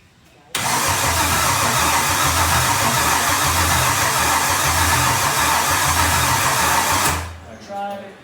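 A Gen V L83 5.3L V8 swapped into a Pontiac Solstice cranks steadily for about six seconds with a loud, even starter whir, then stops without catching, leaving a brief mechanical rattle.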